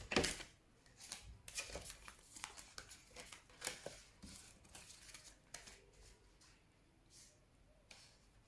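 Tarot cards are shuffled in quick riffling bursts and soft slaps, close by, with no talking.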